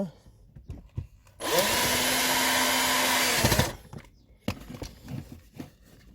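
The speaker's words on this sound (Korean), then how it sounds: "두 번째 나사를 조이도록 하겠습니다." A power driver spins for about two seconds while tightening the second screw on a car air conditioner, a sharp steady whirr with handling clicks and knocks before and after.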